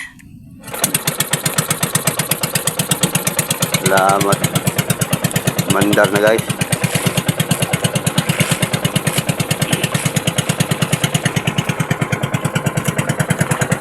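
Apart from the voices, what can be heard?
boat engine running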